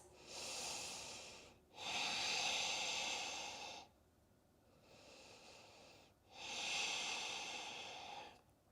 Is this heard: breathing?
yes